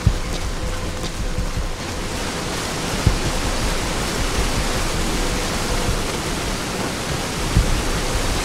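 A waterfall in the video game Metal Gear Solid V: The Phantom Pain, a dense, even roar of rushing water filling the whole stretch, with a few faint knocks poking through.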